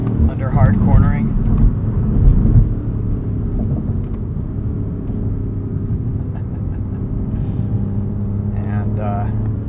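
A 2021 BMW M5 Competition with carbon ceramic brakes drives along with a steady low engine drone and road rumble, while someone talks over it throughout.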